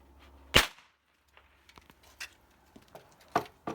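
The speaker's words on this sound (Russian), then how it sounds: "Из мушкета я сделаю второй выстрел." A single sharp musket shot cracks out near the start, fired as a salute at a commemoration, followed by faint scattered clicks and rustles in an otherwise quiet outdoor space.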